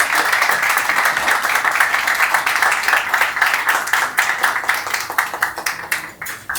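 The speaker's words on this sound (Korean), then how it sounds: "큰 박수 한번 주시기 바라겠습니다" Loud, sustained applause from a crowd at a football club fan event, dense clapping that holds steady and thins slightly toward the end.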